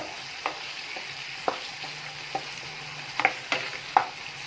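Chicken being mixed with salt, vinegar and soy sauce in a pan: a soft steady sizzle underneath with scattered scraping and clinking taps of a spoon against the pan, no talking.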